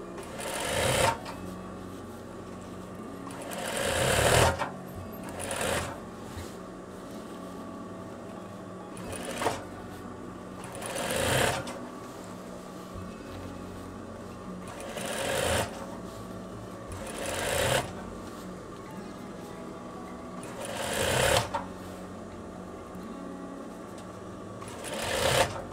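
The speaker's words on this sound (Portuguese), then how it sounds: "Eu vou passar mais uma costurinha aqui para a gente esconder totalmente esse elástico" A sewing machine stitches elastic on a veterinary coverall in short, loud bursts of rapid whirring, about eight runs separated by quiet pauses, with no talk over it.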